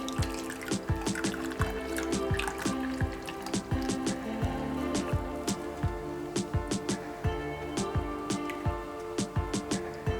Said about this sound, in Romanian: În timp ce turnăm compoziția în forme, o și strecurăm.